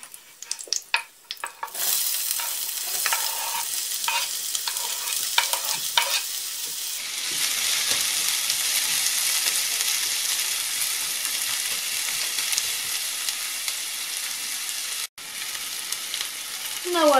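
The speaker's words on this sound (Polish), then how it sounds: "Wrzucam kawałek cebulki i jak olej osiągnie odpowiednią temperaturę," Onion drops into two to three tablespoons of hot oil in a frying pan, a brief clatter giving way to a loud, steady sizzle that fills the rest of the stretch.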